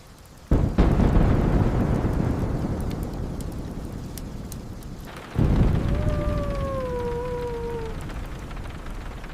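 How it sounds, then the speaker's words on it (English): A thunderstorm outside, with two loud thunder cracks, each rolling into a long fading rumble over steady rain, heard from indoors. "The storm is still outside."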